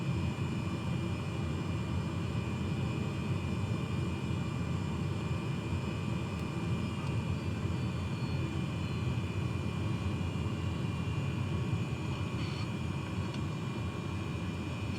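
A light airplane's engine drones steadily in flight at around 11,000 feet, an unbroken, even cabin roar heard from inside throughout, with no talking.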